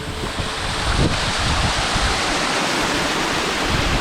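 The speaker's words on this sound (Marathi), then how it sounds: "आणि इकडनं हा एक छोटासा धबधबा पडतोय" Steady, dense rush of falling water, loud and continuous, from a small waterfall near tiled-roof houses on a fort trek, with a faint breezy hiss.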